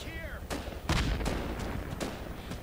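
AK rifle gunfire crackles in sharp, irregular bursts during an infantry firefight in the Project Reality video game, loud and close with a few heavier booming shots, as a voice talks over it.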